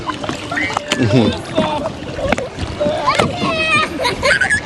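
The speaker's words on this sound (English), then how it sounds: "Paddle now." Paddles dip and splash as a canoe or kayak moves across water on a family vacation, irregular sloshing strokes close by, mixed with voices talking, including a child.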